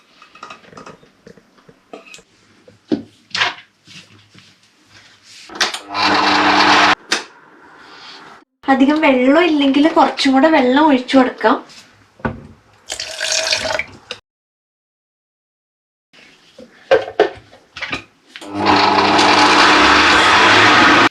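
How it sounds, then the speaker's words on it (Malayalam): A kitchen mixer grinder purees cooked, cooled pumpkin for a creamy German-style pumpkin soup, running in several loud whirring bursts separated by pauses, with a person talking in between. "ഇപ്പം നമ്മുടെ പംകിൻ ഏകദേശം തണുത്തിട്ടുണ്ട് നമുക്കിതിനെ മിക്സിയിൽ അടിച്ചെടുക്കാം"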